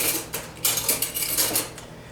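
Flour being mixed into warm liquid in a bowl, with a run of quick metallic clinks and scrapes as a whisk strikes the sides, close and steady for a couple of seconds without any voices.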